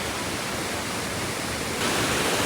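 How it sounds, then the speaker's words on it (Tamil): Fast-flowing stream in a rainy village in Sri Lanka, a steady broadband rush of water that continues without a break and swells louder near the end, with no voices. "அப்படி தண்ணி ஸ்பீட்டாக போகுது"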